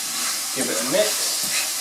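Seasoned meat stirred in a hot pan, a soft steady sizzle and hiss with a few brief scraping movements, short and close.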